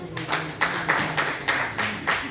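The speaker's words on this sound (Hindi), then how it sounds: "सर के लिए जोरदार तालियां।" Rhythmic group clapping at a wellness business training session in India, a short burst of evenly spaced, fairly loud claps applauding a participant, with a slight indoor echo.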